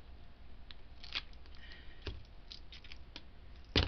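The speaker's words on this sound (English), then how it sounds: "I think I'm going to snip this edge so that we can put the zipper in" Scissors snip the edge of duct tape, several small crisp cuts and clicks up close, ending in a louder snip, with no talking.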